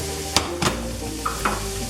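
Green chilies stirred into onions frying in a pan: a steady sizzle broken by a few sharp scraping clatters of the spoon against the pan, close and alone.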